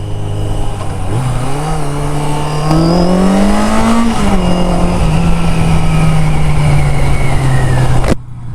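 A 1982 Yamaha XJ650 Seca motorcycle engine revving up through the gears, its pitch rising then holding in a loud, close whine before cutting off abruptly.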